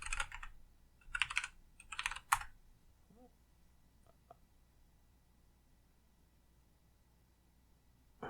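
Someone types a password on a computer keyboard in three quick bursts of close key clicks, followed by a few faint isolated taps and then quiet room tone; no talking.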